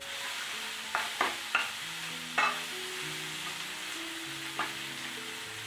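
Cumin-powder spice mixture frying in a pan for dhaba-style paneer bhurji, a steady close sizzle broken by a few sharp scraping clinks as a spoon stirs it, with no talk.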